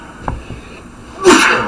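A person sneezes once, close and loud, a sharp burst that comes after a short quiet intake of breath.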